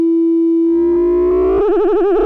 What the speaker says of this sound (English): turn up these attenuators on the panel to hear the cross-modulation